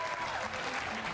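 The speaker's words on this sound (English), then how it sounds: "Starts us off with a strike. Listen to the crowd here outside Detroit." A crowd at a professional PBA bowling championship outside Detroit cheers and applauds a strike, a steady, fairly faint wash of clapping and voices heard at a distance.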